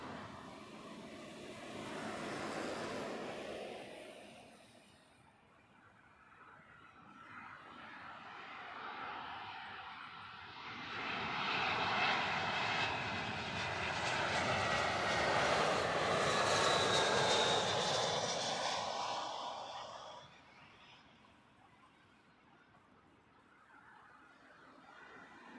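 Passenger airliner jet engines at Heathrow Airport: a loud, broadband roar swells as an aircraft passes, peaking mid-clip and fading, after an earlier, quieter pass at the start.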